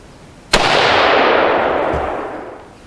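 An AR-15 rifle fitted with a muzzle brake fires a single sharp, loud shot that cracks and then rolls into a long, fading echo.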